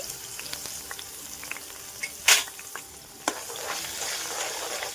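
Garlic ginger paste sizzles in hot oil with soft frying crackle while making dal makhani, a few sharp clinks of a utensil against the pan, no voices.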